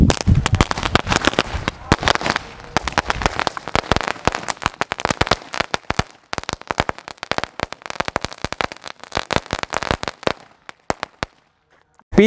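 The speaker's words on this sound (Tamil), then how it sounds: "இப்போ நம்ம நெக்ஸ்ட் என்ன வெடி வெடிக்க போகிறோம்னா 90 வாட்ஸு." A long string of Diwali firecrackers from Sivakasi pops off in rapid, sharp bursts, dense at first, then sparser and more irregular, ending in a few last cracks.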